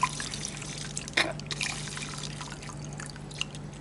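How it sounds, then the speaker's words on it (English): A pH probe rinsed with water in a lab, with a few soft drips and a brief trickle of liquid over a low steady hum, close and fairly quiet. "Okay, I'm gonna rinse it again."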